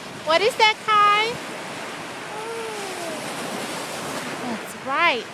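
Ocean surf at a beach, a constant wash of breaking waves and moving water close by, with a child's and adults' voices chatting over it.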